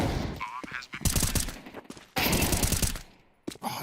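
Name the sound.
gunshots in Counter-Strike 2 video game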